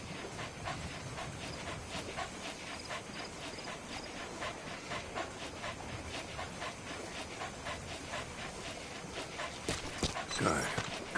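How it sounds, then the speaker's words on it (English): A dog pants rapidly and rhythmically in Metal Gear Solid V, a steady breathy huffing close by with a faint rumbling background, and someone speaks briefly at times. "Good. Good dog."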